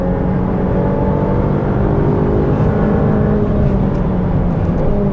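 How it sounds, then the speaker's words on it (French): A Ferrari F8 Tributo on a 600-metre race-circuit straight, its engine a loud, close, sustained roar with steady drone and no voices. "là on va voir dans la ligne droite de 600 mètres ce que ça peut donner au freinage."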